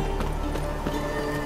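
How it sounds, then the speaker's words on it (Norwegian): A summoned horse gallops in The Witcher 3: Wild Hunt, its hooves beating a quick, steady clip-clop rhythm close by over a constant game background. "Så nå skal jeg prøve å påkalle hesten min"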